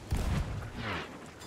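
A ship's cannon fires in the pirate video game Sea of Thieves: a couple of close, heavy booms right at the start, followed by a softer rumbling tail.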